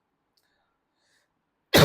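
A single loud, harsh cough bursts out close to the microphone after a stretch of near silence, cut off at the end of the clip.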